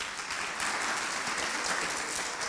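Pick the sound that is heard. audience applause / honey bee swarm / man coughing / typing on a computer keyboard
audience applause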